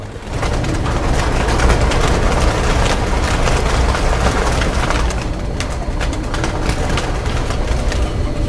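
Long-distance racing homing pigeons, Saudi 1000 km champions, coo steadily inside their loft, a loud, dense, continuous chorus of overlapping low calls close to the microphone with no speech.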